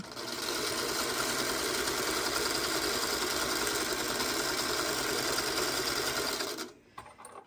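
Sewing machine running continuously as it stitches scrap fabric strips onto a log cabin or courthouse steps quilt block, a steady close mechanical whir lasting several seconds before stopping abruptly near the end.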